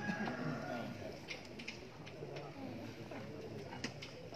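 A best breeder pigeon at a loft coos softly and repeatedly, faint and close amid a steady background hum and scattered small clicks, with no clear talk.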